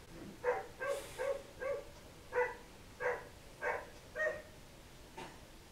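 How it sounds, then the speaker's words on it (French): A dog in the countryside barks repeatedly at a steady rhythm, about eight sharp barks, somewhat distant and faint against a quiet background. "je suis désolée pour le chien qui aboie"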